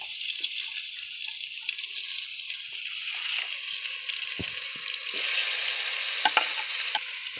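Vegetables stir-fry in a hot pan with a loud, continuous sizzling hiss close by, broken by occasional utensil scrapes and knocks and swelling slightly toward the end, with no speech.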